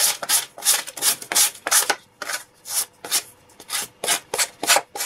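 A wooden marionette doll is sanded by hand in quick back-and-forth strokes, each rasping pass close and distinct, about a dozen strokes in an even rhythm with short gaps between.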